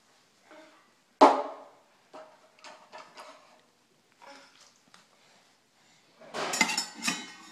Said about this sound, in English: Can you stir the pot with your spoon?